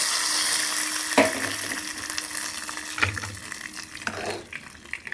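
Hot tempering is tipped into moong dal soup, giving close, brief bursts of sizzling and bubbling that rise and fade a few times over a soft background hiss.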